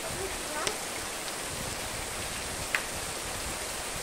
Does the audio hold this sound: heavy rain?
yes